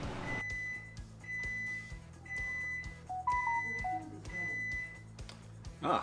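Repeated beeps from an Amazon Smart Oven in convection mode signal that a batch of cookies is done, sounding as a short series of clear, evenly spaced electronic tones over a low steady appliance hum.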